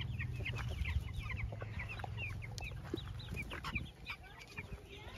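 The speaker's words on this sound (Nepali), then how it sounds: "यता लोकल कुखुरा" Local village chickens cluck in short, scattered bursts against a low rural rumble of background noise, fairly faint and at moderate distance, with a soft high whine running throughout.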